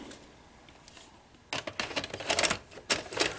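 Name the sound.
Sony DVD VCR combo loading a tape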